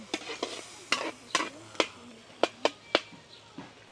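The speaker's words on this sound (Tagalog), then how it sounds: "pinabango na ho yung sibuyas, naglagay ng mushroom" Onions and mushrooms sauté in a pan during outdoor field cooking. A spatula scrapes and stirs in quick, uneven strokes over a low sizzle, each scrape sharp and close.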